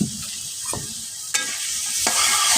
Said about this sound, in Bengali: তো এগুলোকে এখন নাড়িয়ে কষিয়ে নিব।